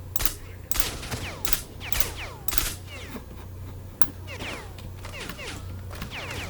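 Gunfire in the video game Stalker: Shadow of Chernobyl, a run of loud sharp shots in quick bursts, some closely spaced, followed by scattered single reports and ricochet-like whines.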